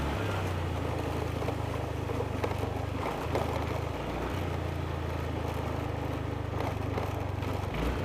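Vehicle engine running steadily with a low, constant drone during engine braking on a rural road, held at an even level with slight dips in pitch, over a broad hiss of wind and road noise.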